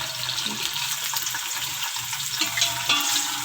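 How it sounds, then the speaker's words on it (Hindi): Chopped onions hit hot oil for a mutton masala gravy, giving a bright, loud sizzle with stirring scrapes, close by and without speech. "इसमें सबसे पहले हम ये प्याज डालेंगे।"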